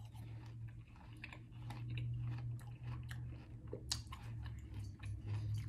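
Crisp crunching and chewing of a caramel apple close to the mic, irregular bites and squishes with a low steady hum underneath, no talking.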